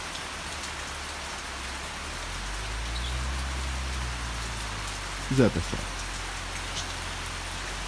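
Heavy rain pours on a rural farm in northeastern Brazil, a dense, even hiss of drops on surfaces that carries on steadily, with a low engine-like hum midway and a brief spoken call near the end.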